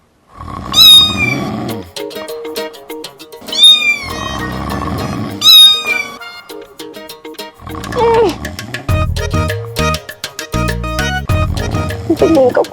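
A voice imitates a cat, giving several drawn-out meows in quick bursts, followed by busier, chattering cartoon-style sounds.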